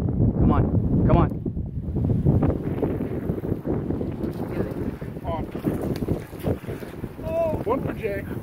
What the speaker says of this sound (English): And it's windy now.